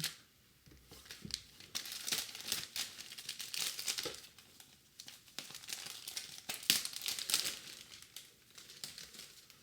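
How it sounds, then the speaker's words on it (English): An Analogue Pocket box being sliced open and its packaging peeled away, close crinkling and tearing of plastic and paper in uneven bursts, with no talking. "So we will slice this dude open. And peel that away."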